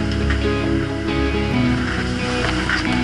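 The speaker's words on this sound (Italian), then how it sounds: "Arrivano ondate, botte." Rough sea waves pound a sailboat in a gale during a transatlantic race, a loud, dense, unbroken wash of water and hull noise close up, with surges rising and falling every second or so.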